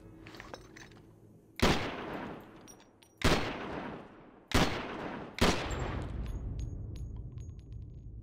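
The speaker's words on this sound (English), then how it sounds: "I'm gonna shoot this guy" Four heavy gunshots or blasts from Call of Duty 4: Modern Warfare Remastered on PC land at spaced intervals. Each one is loud and booming with a long rumbling tail, and a low battle din runs between and after them.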